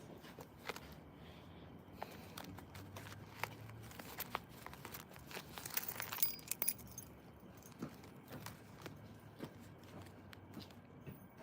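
Keys jangling nearby, soft irregular metallic clinks and rustles scattered through the clip, with a brief louder cluster midway, fairly quiet overall.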